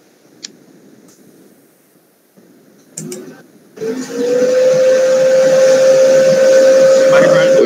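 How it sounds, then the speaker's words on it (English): A vacuum cleaner starts up partway through and then runs steadily as a loud whine with a sustained hiss. Before it starts there is a quieter stretch with faint voices and small clicks. "Somebody running the vacuum cleaner?"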